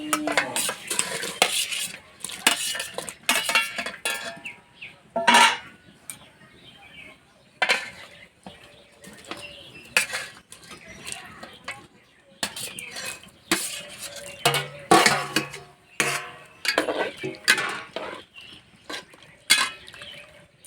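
Fried potatoes and chicken go into hot water in a pot for a chicken curry, followed by intermittent scraping and clinking of a metal spoon stirring against the pot, in irregular bursts separated by quieter gaps.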